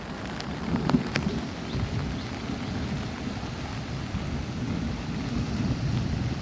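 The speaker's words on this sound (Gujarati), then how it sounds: "ગીરમાં કંઈક આવો વરસાદ થઈ ગયો" Heavy monsoon rain in Gir, Gujarat pours down in a steady, dense roar, with low rumbling like thunder underneath; no voices.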